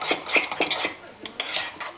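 Fork or whisk briskly beating Dukan galette batter with oat bran in a bowl, a close, rapid run of clinking scrapes and taps against the bowl in an uneven rhythm, with no one talking.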